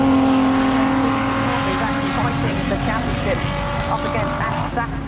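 Race cars battle closely on the Goodwood Revival circuit, engines roaring loud and steady with shifting pitch as they pass, a commentator talking over the continuous racing noise.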